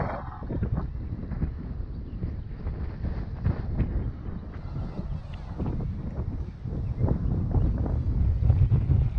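Strong wind blows steadily, rumbling into the microphone in loud, uneven gusts that grow heavier near the end; no speech.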